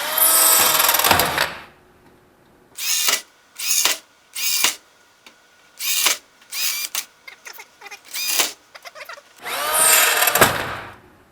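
A power drill fitted with a number 30 bit bores through an ultralight float part with cutting fluid, giving a series of short, loud high-pitched whining bursts separated by pauses, with longer runs at the start and end.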